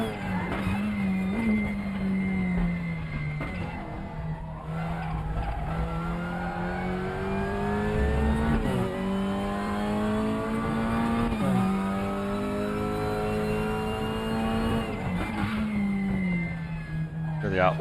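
TCR race cars in RaceRoom roar past with rising and falling engine pitch as they accelerate and shift, with occasional tire squeal, while a commentator talks steadily over the top.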